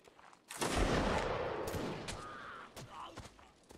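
Musket volleys in a Napoleonic line battle in Mount & Blade: a loud ragged volley crashes out, then rolls and decays into scattered distant shots and battlefield noise.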